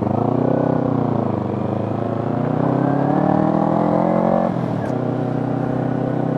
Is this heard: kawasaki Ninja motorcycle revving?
yes